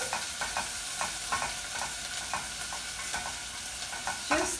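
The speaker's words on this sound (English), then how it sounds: "little bit of onion in some heated olive oil" Chopped onion frying in heated olive oil in a pan, a steady close sizzle broken by repeated stirring scrapes at an uneven rhythm, with no talking.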